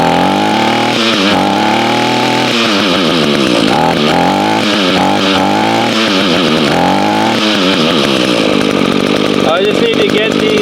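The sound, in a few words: Echo string trimmer engine running after carburetor adjustment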